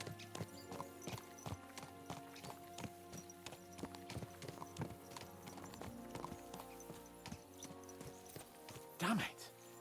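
Horses galloping in Kingdom Come: Deliverance II, rapid rhythmic clip-clop of hooves close by with a brief whinny near the end, while someone talks over it.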